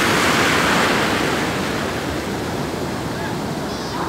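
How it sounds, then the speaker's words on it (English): Ocean waves breaking on Playa Las Americas beach in Tenerife, a loud, continuous roar of surf with wind buffeting the microphone throughout. "Cracking waves today, ladies and gentlemen. Wonderful Playa Las Americas beach."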